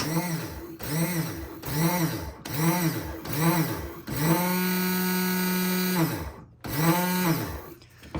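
Starter motor on a cheap four-wheeler cranks against a seized, locked-up engine in several labored, strained whirring bursts, then a longer steady whine, then one more burst; loud and close, with no engine catching.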